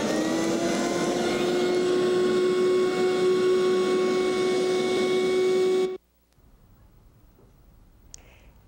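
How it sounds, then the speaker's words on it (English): The vacuum motor of an Omnivac vacuum adaptor, used for making dental temporary restorations, runs with a steady loud hum and whine for several seconds, then cuts off, leaving quiet room noise. "Allow the vacuum motor to run an additional 30 seconds."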